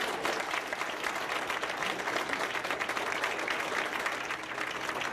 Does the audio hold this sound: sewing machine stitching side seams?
no